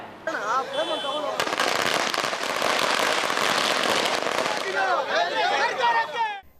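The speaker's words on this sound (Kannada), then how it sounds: "ಎಡಗೈ ಸಮುದಾಯದವರು ಸಿಹಿ ಹಂಚಿಕೊಂಡು ಪಟಾಕಿ ಸಿಡಿಸುವ ಮೂಲಕ ಸಂಭ್ರಮಾಚರಣೆ ನಡೆಸಿದ್ದಾರೆ" Firecrackers burst in a dense, rapid crackling barrage at a street celebration held by a community marking a government decision on internal reservation, loud and continuous for several seconds, with voices and cheering heard before and after.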